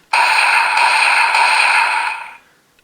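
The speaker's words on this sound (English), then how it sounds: "On its own, we have a standard blasting sound" A single sustained electronic blast tone from the DX Bake Magnum toy henshin gun from Kamen Rider Gavv, bright and buzzy, holding steady for about two seconds before fading out.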